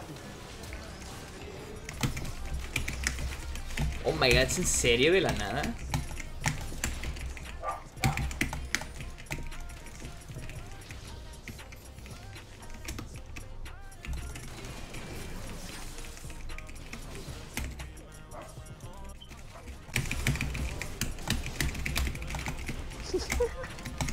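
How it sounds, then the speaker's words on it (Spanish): Computer keyboard typing clatters steadily beneath excited Spanish conversation and background game audio, with denser bursts of keystrokes near the start and again toward the end. "Ay, teclado."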